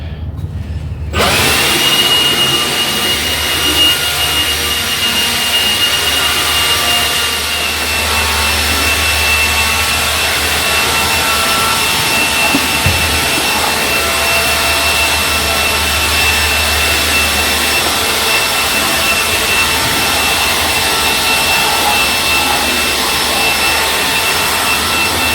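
A loud air blower roars continuously while blowing out the inside of a truck trailer, a harsh steady rushing hiss that starts abruptly and runs unbroken for the whole stretch.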